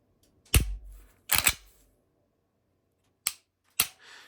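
A Glock pistol's trigger is pulled, giving four sharp mechanical clicks: two close together near the start, then two more after a pause. They are close and crisp, with no talking.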